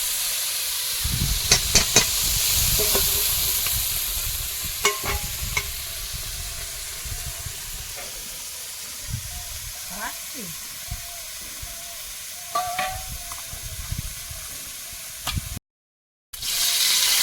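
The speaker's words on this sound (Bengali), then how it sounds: "পার্শে মাছ ভাজবো কিন্তু এই মাছ কিন্তু খুব কড়া করে একদম লাল লাল করে ভাজলে তখন ভালো লাগে না" Small parshe river fish frying in oil in a home kitchen in the Sundarbans, a steady close sizzle and hiss with occasional stirring scrapes, carrying on for the whole stretch with a brief dropout near the end.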